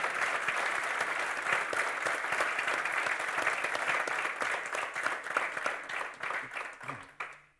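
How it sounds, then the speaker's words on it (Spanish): An audience applauds a guest at a tennis coaching talk, steady close clapping that gradually breaks into scattered claps and dies away, with a brief voice at the end. "un aplauso por favor para este tremendo invitado."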